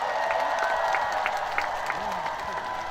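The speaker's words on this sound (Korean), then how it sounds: "박수 한번 주세요." Festival crowd applauding outdoors at a rainy-day event, a steady wash of clapping held at even level throughout, with a few cheers and voices mixed into the din.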